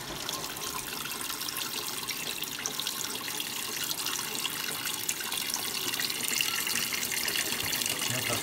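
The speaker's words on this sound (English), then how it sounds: "So I'm just filling it up now for its final rinse." Water gushes steadily into a Hotpoint Supermatic De Luxe 9414 twin-tub washing machine filling for its final rinse, a constant hissing rush with no talk.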